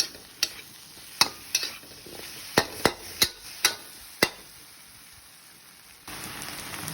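Roselle flowers and egg stir-fried in a pan with oyster sauce, giving a run of sharp spatula scrapes and clacks against the pan over a low sizzle, spaced irregularly and close, then a steadier hiss near the end.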